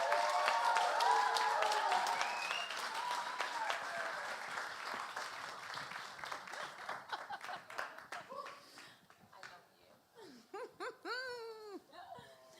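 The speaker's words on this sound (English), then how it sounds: "So please, a round of applause, please, for Chris Reyes." Applause from a live arts event audience in a London venue, dense and even at first, then thinning out as scattered voices and calls take over toward the end.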